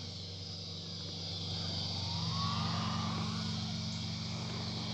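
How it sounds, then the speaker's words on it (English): A tractor engine hums steadily in the distance, a low continuous drone that swells slightly partway through against open outdoor ambience. "I'm trying to hear what that noise is. I think it's a tractor."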